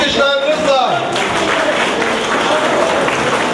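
Applause from guests at a Turkish wedding ceremony, a steady dense wash of clapping that runs throughout, with a voice over a loudspeaker at the start.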